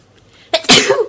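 A person sneezes once, close and loud, a quick inhale followed by a sharp burst, during a knitting session with yarn nearby.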